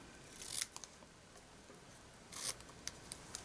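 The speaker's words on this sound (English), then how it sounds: "Trim off our ends." Scissors snip through the ends of a paper gift box, two short crisp cutting bursts spaced apart with small clicks between, close and fairly quiet, no talking.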